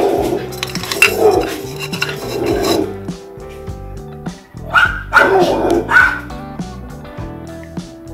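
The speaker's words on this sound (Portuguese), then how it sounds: "Cachorro latindo no portão" A dog barks at a gate in two bursts of repeated, fairly close barks, separated by a quieter stretch filled with clinking and scraping of small stones.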